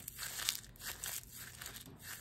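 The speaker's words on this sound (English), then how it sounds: "Open it up, and then if you want, crumple it up again." Cheap store-brand wax paper being crumpled by hand, a soft dense crinkling that rustles in irregular bursts, close and fairly quiet, with no talking.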